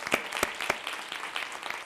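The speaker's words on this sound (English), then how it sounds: "So let's give him another round of applause." Applause from a college audience at an MLK celebration after a solo, scattered individual claps that stand out sharply against a softer background of clapping, fairly quiet.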